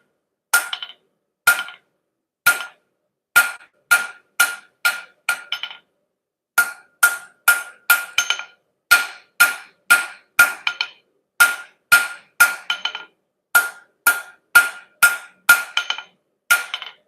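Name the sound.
hammering metal bottle opener on anvil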